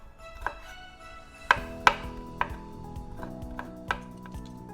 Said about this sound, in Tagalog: Then next po, hiwain natin yung garlic